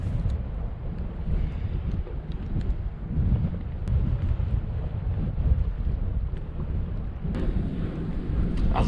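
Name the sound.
strong wind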